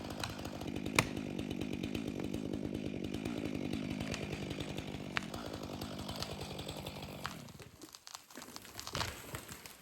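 A chainsaw cuts deep into the trunk of a long-dead tree with decaying sapwood, its buzzing engine steady and close before easing off, followed by wood crackling and handling noises.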